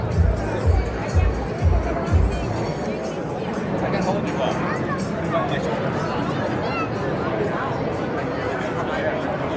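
Large street crowd outside the Ghostbusters firehouse at Franklin and Varick Streets in New York on Ghostbusters Day, a dense, loud babble of many voices with some thumps at the start. One nearby voice talks over the crowd.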